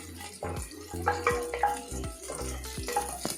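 Spinach and dal being sautéed in a pan for palak dal curry: soft, rhythmic stirring scrapes and clinks of a utensil against the pan over a low sizzle, close by.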